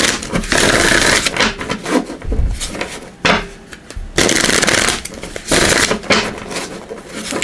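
Tarot cards are shuffled in several quick riffling bursts separated by short pauses, crisp and close.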